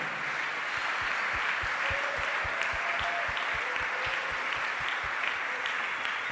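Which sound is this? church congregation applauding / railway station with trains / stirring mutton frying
church congregation applauding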